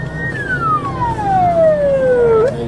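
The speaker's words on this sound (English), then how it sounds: "ignoring sirens and loudspeaker commands" A loud police siren wails with a long falling tone, close and steady over low traffic rumble, then sweeps back up at the end.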